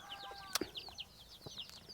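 Free-roaming farmyard chickens cluck in a rural Thai village yard, several short, irregular clucks and chirps close by against a faint outdoor background, with no voices.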